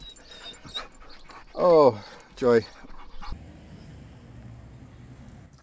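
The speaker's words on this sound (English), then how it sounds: "The dogs want to get out and get in the yard." Dogs panting and whimpering eagerly at home after a long drive, with two sharp high whining yelps and soft close panting, while someone speaks briefly over them.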